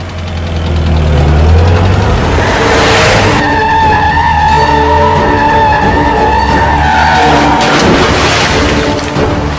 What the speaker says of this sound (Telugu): అప్పుడు ఒకరోజు కృష్ణ కార్ స్టార్ట్ చేశాడు